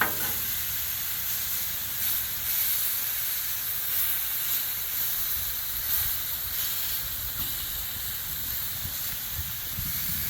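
A steak sizzles on a Blackstone griddle with a steady, broad hiss like steam. It holds constant and fairly loud for the whole stretch, with no talking over it.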